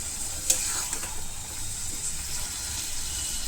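Ground spices, including cinnamon, fry in a pan with a soft steady sizzle, and a utensil stirs them with a few light scrapes and clinks near the start.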